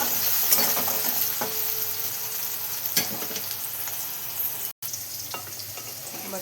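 Chopped onion with a pinch of salt sizzling steadily in a pan for potato and pea curry, with occasional stirring scrapes and clicks over the continuous fry and a brief dropout near the end.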